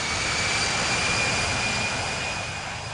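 Boeing 787 jet engines at takeoff power in the flight simulator Infinite Flight, a loud, dense, steady roar with a thin high whine running through it, no voices.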